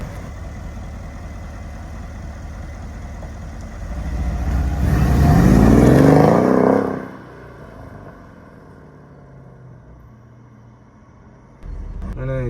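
A Mercedes-Benz W218 CLS 63 AMG engine runs with a low rumble that swells into a loud rev midway, then drops back to a quiet idle before picking up again at the end.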